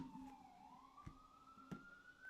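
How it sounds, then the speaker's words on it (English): A siren wails at a distance, its pitch sliding down and then rising steadily, with faint knocks and bumps nearby. "Hear a siren outside."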